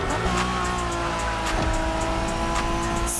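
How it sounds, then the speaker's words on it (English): A Honda NSX from the 1990s slides through a handbrake drift in The Crew Motorfest racing game, its tires squealing sharply over a loud, steady engine roar that runs unbroken throughout. "the moment you kick in the handbrake, you're thrown into a slide"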